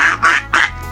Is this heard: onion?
no